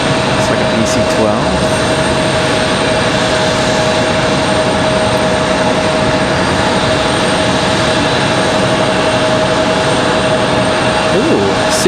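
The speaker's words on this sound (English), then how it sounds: "What do we got moving over here? Pilatus? It's like a PC-12." Pilatus PC-12 single-engine turboprop moving on the ground at Raleigh-Durham International Airport, a steady continuous engine drone with a constant whine, heard from a distance under light background noise.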